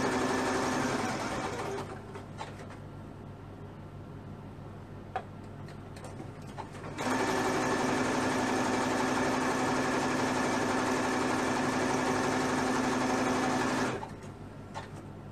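A sewing machine stitching girls' leggings runs in two long, steady bursts of fast, buzzing whir, nearby and loud, separated by a quieter pause of faint ticks and handling.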